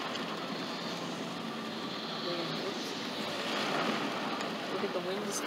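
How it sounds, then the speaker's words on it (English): Strong, steady wind roars through a thunderstorm that has just dropped pea-sized hail in Newport, New Hampshire. The broad rushing noise swells slightly midway and stays constant and loud for the whole stretch. "Look at the wind is coming up now too."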